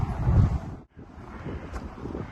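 Cold wind in Vilnius city centre buffets the microphone in low rumbling gusts, strongest at the start, with a brief lull before steadier blustering resumes.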